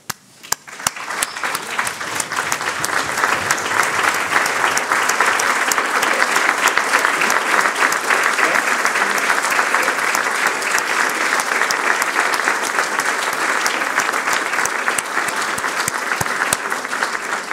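A large conference audience rises to its feet in sustained standing applause, dense steady clapping that swells within the first second and holds evenly for the full length, filling a hall.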